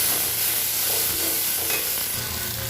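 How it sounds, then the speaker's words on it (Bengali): Ground chilli, cumin and coriander masala frying and being stirred in a pan for a jackfruit and prawn curry, with a steady close sizzle and hiss and soft stirring scrapes throughout, no voices. "মশলাটাকে ভালো করে কষিয়ে নিব।"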